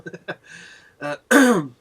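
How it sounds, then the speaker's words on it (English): A few short throat-clearing coughs, close and fairly loud, ending in a longer rasping clear of the throat. "If I do cough once or twice, I do apologise."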